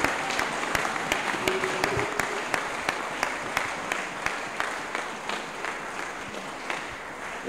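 A church congregation at a couples' retreat claps and applauds steadily, a dense wash of many hands with rhythmic beats running the whole time, a little crowd noise mixed in.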